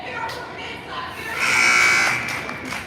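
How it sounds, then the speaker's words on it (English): A basketball game buzzer sounds in a high school boys' gym, a sustained electronic tone rising for about a second over crowd murmur and echoing room noise. "So, the first buzzer goes off."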